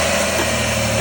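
A car engine running at a steady idle just after starting, loud and close with a constant low drone.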